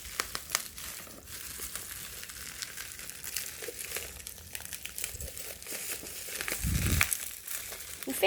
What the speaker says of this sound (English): You can hear the bubble wrap